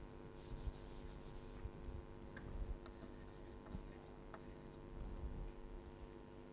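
Chalk or pen writing during a mathematics lecture, faint scratchy strokes and light taps over a steady background hum, quiet and intermittent with no talking.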